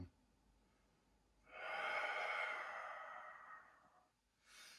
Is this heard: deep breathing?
yes